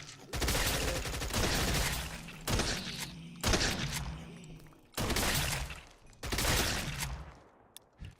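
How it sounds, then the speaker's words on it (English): A gun fires in the Minecraft OritechCraft modpack, loud sustained bursts of rapid gunfire in several long stretches separated by brief gaps, with a faint voice underneath at times. "I'm trying to shoot."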